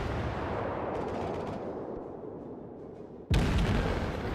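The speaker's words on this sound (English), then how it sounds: "So we're going to keep firing." Cruiser guns firing in World of Warships, a Kuma-class cruiser in naval battle: a steady rumbling barrage of distant gunfire, then one sudden loud, close blast near the end.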